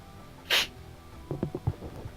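A single sharp human sneeze bursts out loudly near the start, followed by faint low mumbling and small knocks during an online game chat.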